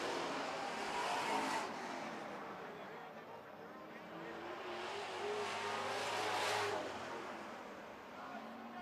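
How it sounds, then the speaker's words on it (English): Super trucks racing past at a circuit as they cross the finish line, a steady distant engine roar with swells as vehicles pass, heard under a race commentator's talk. "2nd place, Don Gio coming across the line now."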